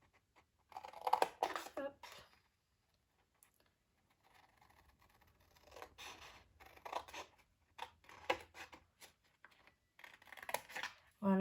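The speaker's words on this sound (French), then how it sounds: "on va couper le long de la ligne à droite et à gauche" Scissors snip through paper along a marked line, cutting down the right side and then the left, in short quiet bursts of crisp snipping separated by pauses, close up, with a brief spoken word.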